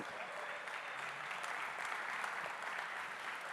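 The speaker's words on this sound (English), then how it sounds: "All right, one round of applause for Mark Deal." An audience claps steadily for a few seconds at an evening event, the dense, even applause heard at a moderate distance with no talking.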